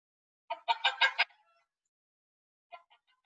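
A hen clucks in a quick, loud run of several clucks, then a couple of softer clucks after a short pause.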